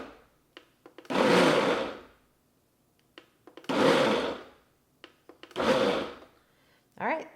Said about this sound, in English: turn the Ninja Foodi blender on, and we're just gonna pulse. We're gonna pulse 5 or 6 times, I would think, until we get the nuts ground up